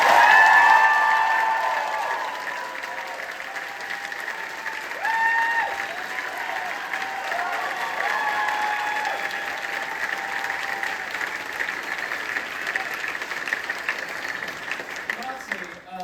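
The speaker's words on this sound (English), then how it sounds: "So give yourselves a big round of applause." A theatre audience applauds the final-night bows of a Your Lie in April production, with loud, continuous clapping that stays sustained throughout and peaks at the start.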